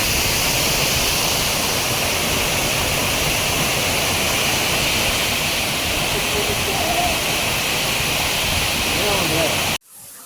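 The Mini Devkund Doodhani waterfall in foggy Maharashtra pours as a steady, loud, close roar of rushing water that holds unchanged for nearly ten seconds before cutting off abruptly.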